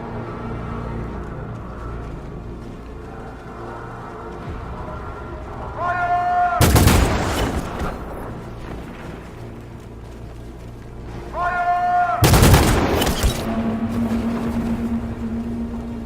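Gunfire from the video game Detroit: Become Human, two loud booming blasts several seconds apart over a low droning background, each preceded by a rising tonal swell.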